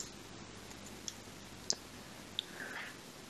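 A few sharp computer mouse clicks land sparsely over faint room hiss while plugins are selected in PyCharm, quiet and close, with no talking.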